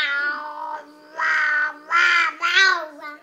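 A young child imitates a cat, giving four drawn-out, whiny meows in close succession, close and clear with short gaps between them.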